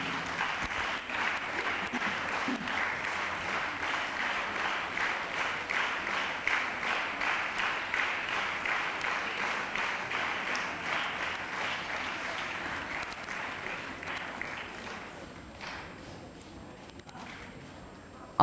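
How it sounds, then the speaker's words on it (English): An audience at an inter-school literary and cultural meet applauds to welcome a speaker, steady many-handed clapping that runs for a long stretch and then gradually thins out near the end. "A big round of applause to welcome Mr."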